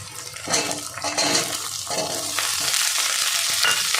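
Cut potatoes hit a pan of fried onion, ginger and garlic paste, giving a loud, continuous sizzle with scraping stirs and utensil clatter throughout.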